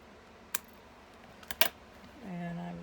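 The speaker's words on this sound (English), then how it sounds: "now I'm just going to snip this off" Sharp scissor snips cutting cardstock for a Stampin' Up O' Christmas Tree slimline card, one crisp cut and then a quick double snip, close and clear in a quiet room.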